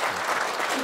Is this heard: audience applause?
yes